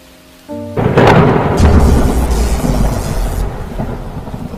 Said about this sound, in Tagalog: Ang lakas pa din ng ulan dito.